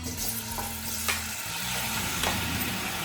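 Tomatoes frying in plenty of oil in a pan, a steady close sizzle with a few soft stirring scrapes, continuous and fairly loud, no voices.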